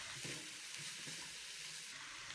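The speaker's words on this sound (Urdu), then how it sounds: "چکن کا رنگ تبدیل ہو تو اس میں گاجر، شملہ مرچ، بند گوبھی ڈال کر چمچ چلائیں" Chicken with carrots, capsicum and cabbage sizzles steadily in a pan while a spoon stirs it with soft scraping strokes, close and fairly quiet, for a Singaporean rice dish.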